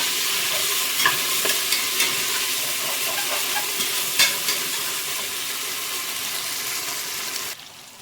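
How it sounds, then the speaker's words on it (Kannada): Ginger, garlic and green chili paste sizzles steadily in a hot pan for chicken biryani, a continuous close frying hiss broken by occasional spoon-stirring clicks, with no voices. "ಶುಂಠಿ ಬೆಳ್ಳುಳ್ಳಿ ಹಸಿಮೆಣಸಿನ್ಕಾಯಿ ಪೇಸ್ಟ್ ಮಾಡ್ಕೊಂಡಿದೀವಲ್ಲ ಅದನ್ನು ಕೂಡ ಸೇರಿಸ್ಕೊಂಡು ಈಗ ಸ್ವಲ್ಪ ಚೆನ್ನಾಗಿ ಫ್ರೈ ಮಾಡ್ಕೊಳ್ಳೋಣ"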